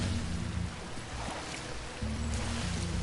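Water in the Spyro Reignited Trilogy video game: a continuous rushing, lapping wash with low surging swells that fade and return, steady and fairly loud throughout, with no voices.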